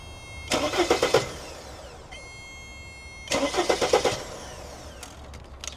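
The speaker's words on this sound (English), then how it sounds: "we'll take the power probe and actuate the starter manually" A starter motor, triggered directly with a power probe on a car that won't start, cranks the engine in two separate bursts of rapid rhythmic chugging about a second each, close and clear, with a pause between and no speech.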